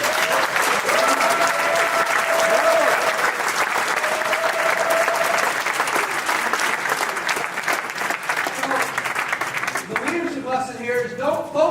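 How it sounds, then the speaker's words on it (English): Loud, sustained applause fills a large hall at a motivational mindset event in Germany, with dense clapping and crowd noise throughout, fading near the end as voices emerge. "Give yourself a round of applause for accomplishing this"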